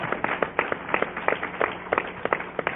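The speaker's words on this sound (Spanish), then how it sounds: "Dale un aplauso al Señor." A church congregation claps in a steady rhythm, many hands striking together in quick repeated beats, loud and close, with no talk over it.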